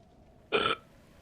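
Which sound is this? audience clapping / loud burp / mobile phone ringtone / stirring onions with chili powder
loud burp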